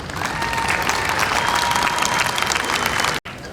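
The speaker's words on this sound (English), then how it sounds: "Please join me in a round of applause." Sustained audience applause at a university commencement ceremony, a dense steady wash of clapping from a large crowd that cuts off abruptly near the end.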